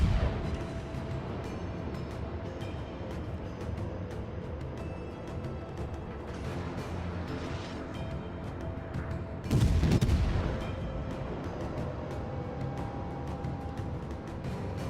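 Warship cruiser guns firing in a naval battle video game, a continuous rumbling stream of distant shots with a heavier boom near the middle.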